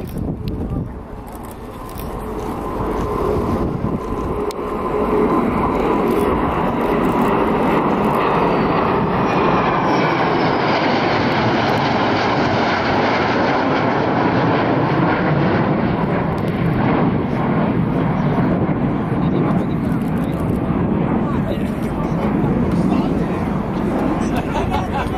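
An SE-5A First World War biplane flies at the RIAT 2018 airshow, its engine roar swelling to a loud, sustained drone with a sweeping pitch shift as it passes, while a voice commentates over it.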